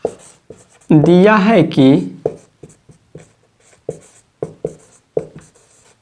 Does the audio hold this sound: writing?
yes